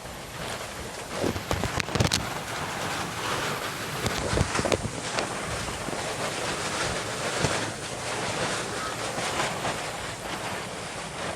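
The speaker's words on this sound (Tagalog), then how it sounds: "Lakas ng hangin." Strong, steady typhoon wind roars and buffets the microphone beside a flooding house, with gusty bursts over a constant broadband rush and no talking.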